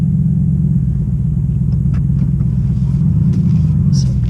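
Ford Mustang Bullitt 5.0 V8 running close by with a steady, loud low rumble, a deep idle holding evenly throughout.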